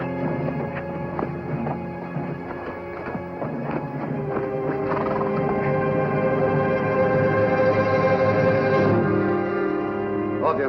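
Steady clip-clop of horse hooves over a rumbling, music-like background, with a brief whinny-like sound, fairly loud throughout.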